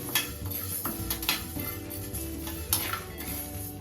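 Lentils being stirred and dry-roasted in a thick pan over a low flame, with a steady scraping and light clatter of a spoon against the pan's metal, close and continuous with a few sharper knocks.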